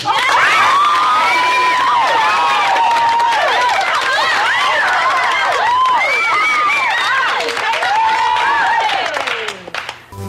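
A large crowd cheers and shouts loudly, with clapping mixed into the roar, sustained for several seconds before tapering off.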